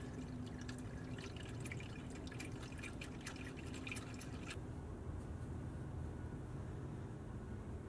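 Milky fluid drips from a Ford EcoBoost engine with a failing timing chain, a rapid patter of small drops for the first few seconds, then trailing off under a low steady background hum.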